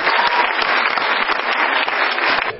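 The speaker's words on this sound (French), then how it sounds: "applaudissez-le très fort" Sustained, dense clapping from a large audience at the opening ceremony of a festival in Vernon, steady and loud throughout before easing slightly at the end.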